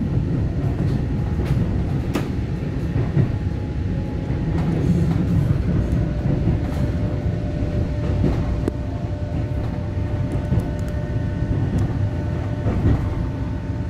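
A ten-car Taiwan EMU900 commuter train runs along the Western Line between Qidu and Badu, giving a steady, loud rolling rumble on the rails with faint occasional clicks throughout.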